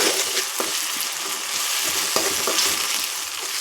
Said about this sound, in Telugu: ఒకసారి కలదిద్దామండి.